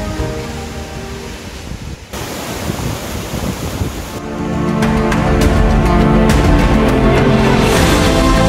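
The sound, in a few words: waterfall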